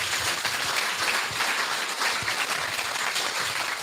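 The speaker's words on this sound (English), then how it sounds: "Give him a round of applause, folks." An audience applauding a man at a community gathering, dense steady clapping throughout at close-to-mid distance, with no speech over it.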